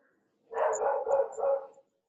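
Several dogs bark in a short burst of four or five overlapping woofs, fairly close and loud, standing alone against a quiet background.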